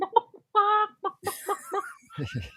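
A voice imitates a chicken, giving a run of short clucking bursts with a few longer squawk-like calls, close and fairly loud with no other talk.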